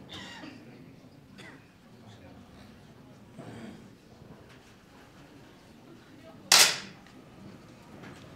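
A single sharp, close crack of a 10m air pistol competition shot in a men's World Cup final, standing out from a quiet hall with murmuring voices and coughs in the background.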